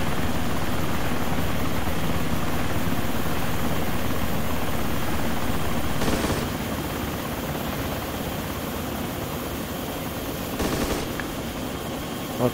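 An Osprey tiltrotor aircraft flying in the video game Arma 2, a loud, continuous rotor and engine roar with brief bursts of gunfire breaking through around the middle and near the end.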